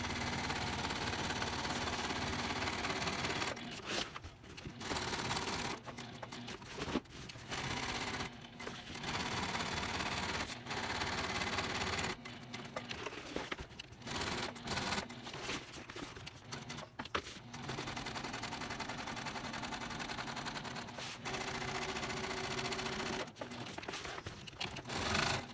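A home sewing machine stitches an eighth-inch seam down the edges of tote bag panels, running in steady mechanical bursts with short pauses between runs, close and alone with no talking.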